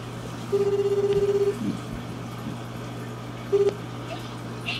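Ringback tone of an outgoing phone call: one long steady beep, then a brief second beep a few seconds later, faint over low background hum.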